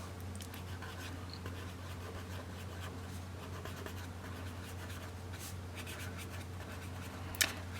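A Papermate Flair pen writes on planner paper, a faint, continuous soft scratching of felt tip across the page under a steady low room hum, with a small tap near the end.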